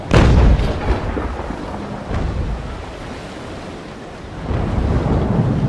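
A ship's cannon fires from a Navy brig in a naval battle game: one loud, booming blast opens, followed by a long rumbling roar of wind and surf, with a fainter thud partway through and the roar swelling again near the end.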